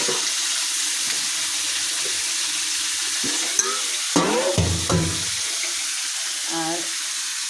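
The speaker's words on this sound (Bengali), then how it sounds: "মাংসগুলো দিয়ে দিচ্ছি।" Beef pieces frying in hot oil with spices in a wok, a loud continuous sizzle with scraping stirring strokes and bubbling surges in the middle.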